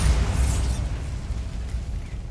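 Bombarda blasting spell explosion in Hogwarts Legacy, a loud close boom with a deep rumbling low end and a crackling burst at the start, then settling into a decaying rumble.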